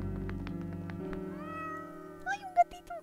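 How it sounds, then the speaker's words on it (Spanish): Cat meowing in the video game OneShot, a few short, high mews near the end following a low sustained musical drone, fairly clear and close. "¡Ay, un gatito!"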